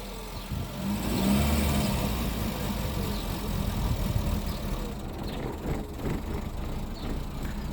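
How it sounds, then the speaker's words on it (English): A 1991 Opel Corsa's engine runs unevenly on choke, a close, rough idle with a swell in revs early on, then a lumpy, fluctuating rumble. "if I put the choke out too high or too little, the engine will run quite rough at the start."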